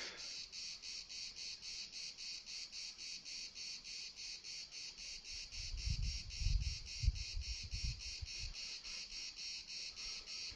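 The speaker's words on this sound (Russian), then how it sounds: "и песня цикад." Cicadas sing in a steady, loud pulsing chorus at a bay in Crimea, the rhythmic buzz continuing throughout with a brief low rumble in the middle.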